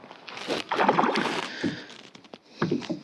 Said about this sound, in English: I love that sound. You can tell when it's a big fish, that it's a lot deeper sound.